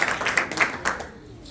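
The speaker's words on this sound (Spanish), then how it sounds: "Denle una ofrenda de palmas a Jesús." Church congregation clapping in response to a call for an offering of applause, a short burst of scattered claps that fades out within about a second.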